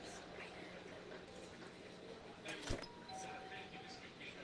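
In the video game Content Warning, a doorbell chimes with a steady electronic ding tone lasting about a second, heard under voices talking over the game sound.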